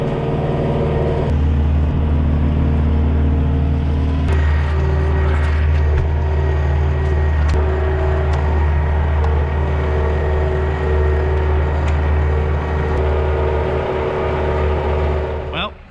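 A tractor engine drones steadily and loudly close by as it pulls a land plane along a forest trail, a low rumbling hum with occasional rattles and knocks.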